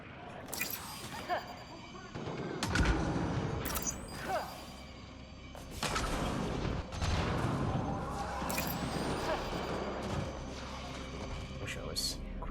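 Grenade blasts in the Mass Effect Andromeda multiplayer mode sound as a series of heavy booms and thuds, mixed with gunfire and battle noise. A voice talks over the action throughout.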